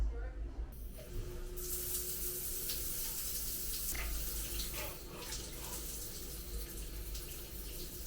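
Water running from a hotel room shower, a steady close hiss of spray that continues throughout, broken by a few knocks and clatters from handling the fittings.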